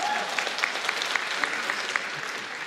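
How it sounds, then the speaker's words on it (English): A convention audience at a One Piece voice actors panel at Weebcon 2024 breaks into a short burst of steady, dense applause, many hands clapping together for under three seconds. "Give it a round of applause."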